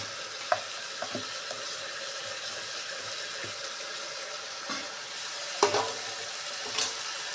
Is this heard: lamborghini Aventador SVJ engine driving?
no